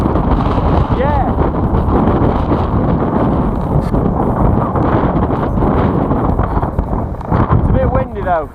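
Wind buffets a microphone outdoors on a windy day, a loud, continuous roaring rumble with gusty surges, while people talk beneath it.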